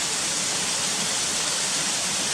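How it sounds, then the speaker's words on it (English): Steady, loud rushing water from a waterfall pouring under a road through a small arch tunnel, a continuous broadband roar with no voices. "where the waterfalls run down and go through that little arch tunnel underneath the road"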